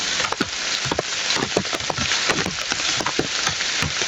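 Rain patters steadily on a surface nearby, with irregular heavier drips and taps landing over a constant hiss.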